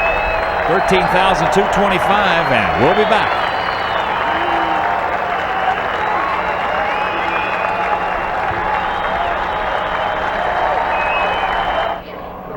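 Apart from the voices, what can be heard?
baseball crowd applauding departing pitcher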